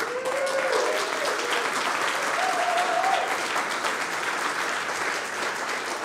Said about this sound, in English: that needs a big round of applause as well.